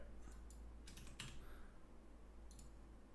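Quiet clicking on a computer keyboard in a few short, scattered bursts, typing up close over a steady low background hum.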